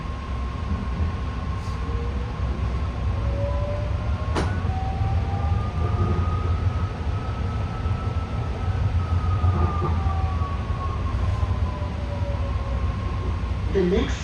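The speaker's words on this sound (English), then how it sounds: "see how the power is braking the train when it's in the station" A BART rapid-transit train on the orange line hums and rumbles, with rising and falling electric motor whines as it gathers speed out of a station, steady and fairly loud throughout.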